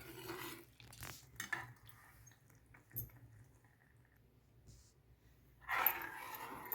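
Makhana (fox nut) kheer is ladled from the pot into a bowl, with a few soft clinks and scrapes of utensils against metal in an otherwise quiet kitchen.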